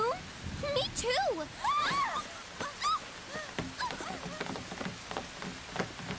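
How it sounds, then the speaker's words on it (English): Rain falling indoors in a room, a steady patter and splash under overlapping high-pitched voices that talk throughout. "That it's raining in our room?"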